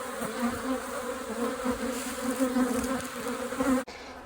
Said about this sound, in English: Absolutely packed full of bees.